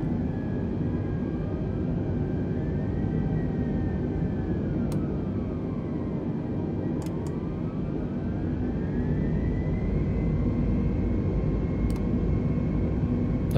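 Simulated aircraft engines in an Xbox flight simulator drone steadily, with tones sweeping up and down as each throttle is moved in turn, alone and without talk.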